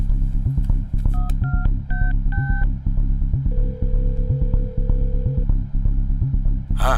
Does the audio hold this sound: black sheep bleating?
no